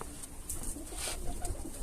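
A pigeon coos inside a coop, soft throaty calls repeating close by over a rustling, noisy background.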